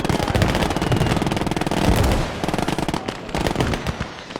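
Sustained, rapid bursts of MG machine-gun fire in a WWII battle video game, loud and close, rattling steadily with brief pauses between strings of shots and no voices over them.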